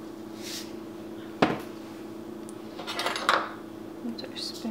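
A spoon clinks and scrapes in a bowl while half a teaspoon of salt is mixed into homemade salsa, with one sharp knock and a few lighter rattles over a steady background hum.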